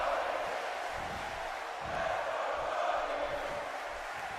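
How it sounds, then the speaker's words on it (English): Steady crowd roar fills a WWE 2K17 wrestling arena as fans cheer Stardust, an unbroken, moderately loud wash of many voices with slight swells and no single speaker. "Everyone cheering on Stardust."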